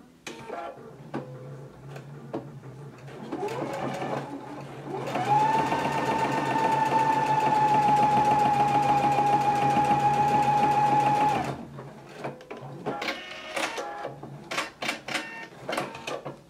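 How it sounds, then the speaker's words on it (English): A Husqvarna Viking Epic 980Q sewing machine stitches faux leather with a standard presser foot: a loud, steady mechanical whir runs for about six seconds, with quieter clicks and handling noises before and after. "let's see how this sews with this not being the non-stick foot"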